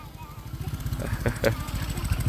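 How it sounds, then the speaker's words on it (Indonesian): A motorcycle engine putters close by at the Modernland Cilejit development in Indonesia, a low rumbling chug rising briefly as it passes, while a voice speaks faintly underneath. "Hati-hati ada motor ya."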